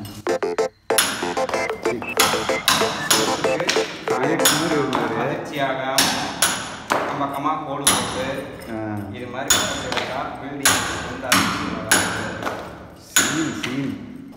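Repeated heavy hammer blows knocking down part of a building structure, sharp ringing thuds landing every second or so, close and loud, with a person speaking in between.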